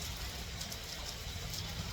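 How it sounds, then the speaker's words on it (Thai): Steady rain falling outside a rented room on an overcast day, a continuous soft hiss with no breaks, even and moderately quiet. "วันนี้เพราะว่าฝนตก"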